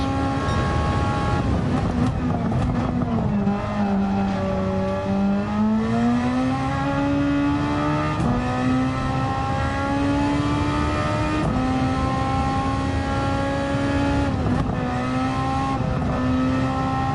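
Race car engine in Gran Turismo 7 on the Tokyo Expressway, driven from cockpit view: a continuous loud engine whine rising and falling through gear changes and revs, with brief tire squeal, no talk.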